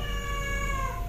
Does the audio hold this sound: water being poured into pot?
no